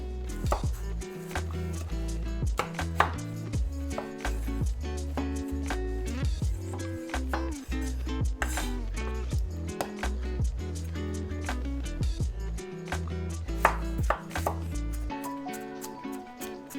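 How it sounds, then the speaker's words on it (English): A knife chopping Roma tomato into quarter-inch cubes on a board, rapid repeated close taps throughout, heard under loud background music. "Next we'll go in on our Roma tomato. We're going to cut these into 1/4 inch cubes."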